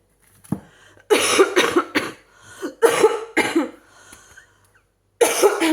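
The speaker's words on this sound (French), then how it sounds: "Pardon, je tousse beaucoup." Several harsh, bursting coughs in quick clusters, close and loud, separated by short quiet gaps, with another coughing fit at the end.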